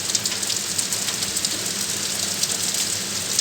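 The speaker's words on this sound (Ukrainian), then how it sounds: "оце дождик непоганий такий, тихенький" Steady light rain patters down continuously with no wind, a soft, even hiss of drops on a hard surface with no voices.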